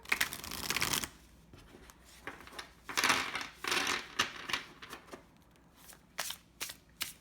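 Tarot cards are shuffled in quick riffling bursts, with crisp papery flutters and soft taps, close and fairly quiet, no talking.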